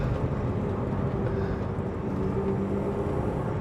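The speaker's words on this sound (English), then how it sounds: "BMW E36 325 with a short shift in it, taking it around the country roads, giving it a bit of a hard time" A BMW E36 325i fitted with a short shifter drives hard along country roads, its engine giving a steady, loud droning note mixed with road and wind roar, close and continuous without any talking.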